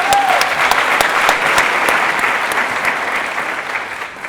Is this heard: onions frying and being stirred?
no